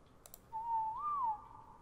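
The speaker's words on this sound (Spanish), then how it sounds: "Y vamos a silbar ahora aquí pasivo," A whistle command in the video game ARK: Survival Evolved, one clear rising-and-falling whistled tone lasting under a second after a couple of soft clicks.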